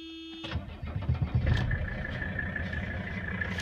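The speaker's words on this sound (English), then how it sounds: "That's a cold start." A 1985 Mercedes 300D diesel engine with high mileage cranks briefly and catches on a cold start, then settles into a steady, slightly uneven idle at moderate loudness close by.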